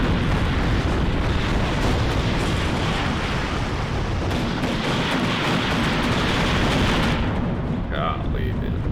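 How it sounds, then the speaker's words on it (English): Artillery barrage in the video game WARNO, a dense, unbroken roar of overlapping explosions and booming impacts that stays loud for the whole stretch and thins out only slightly near the end. "Togg is calling in all the artillery"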